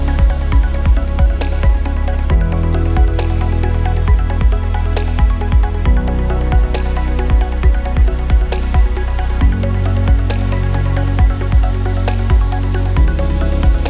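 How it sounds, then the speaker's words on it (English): Fresh water pours into a turtle pond being cleaned, a steady low wash of running water dotted with constant small splashes and drips, close and fairly loud, with no talking. "we're filling fresh water into the pond"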